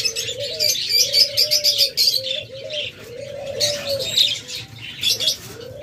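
Caged budgerigars at a pet bird seller chirp and twitter in rapid overlapping bursts, close and lively, with a soft low cooing running beneath them.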